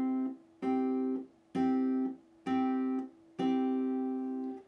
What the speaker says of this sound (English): Here we're going to be plucking these notes together a total of 5 times.